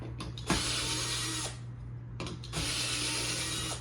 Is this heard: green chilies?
no